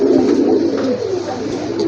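Pigeons coo in a low continuous murmur in a pigeon market, close and steady throughout.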